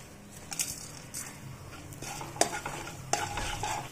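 Peanuts and two kinds of dal fry in refined oil in a kadai while a spoon stirs them, giving a steady soft sizzle broken by sharp scraping strokes.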